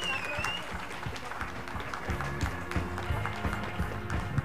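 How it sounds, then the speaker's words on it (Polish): Steady, dense applause from an audience at a school talent show, sustained clapping throughout with a faint tone near the start. "Wielkie brawa!"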